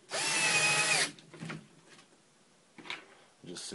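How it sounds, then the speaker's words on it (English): A Hitachi DS10DFL cordless drill drives a hex-head screw through aluminum into wood in one loud, close, whining burst of about a second, followed by fainter handling clatter and small knocks. "I'm going to drive a couple of these hex heads through this metal aluminum I just drilled"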